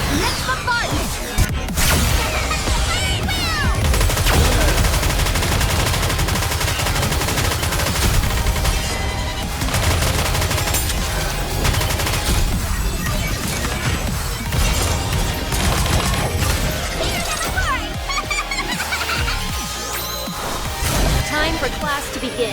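Dense gunfire and bombardment from the video game Goddess of Victory NIKKE: continuous machine-gun bursts, heavy impacts and crashing blasts layered over game music for the whole stretch, loud and close.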